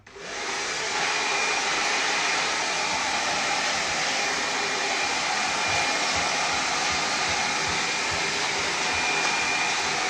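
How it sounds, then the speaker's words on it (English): A hair dryer blows on the top of a man's hair during a haircut, giving a loud, constant whirring roar that runs without a break for about ten seconds, with no voices. "you'll see that I'm going to be blow drying the top as well"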